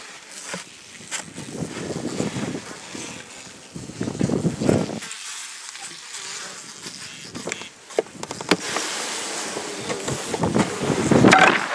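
Gusty wind blows across a microphone at an apiary, rising and falling in buffeting surges, with occasional knocks and rustles from handling nearby.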